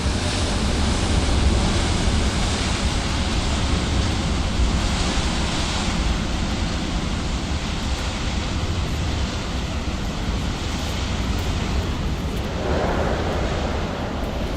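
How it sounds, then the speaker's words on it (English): Strong wind blowing hard outdoors, a steady, loud, broadband roar that holds for the whole stretch with no voices over it. "It's just windy out, really windy."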